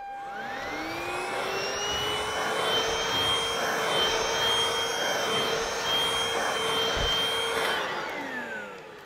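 A Hoover Freedom stick vacuum cleaner fitted with an upholstery brush spins up to a high, steady whine that holds loudly and close for several seconds, then winds down as it switches off.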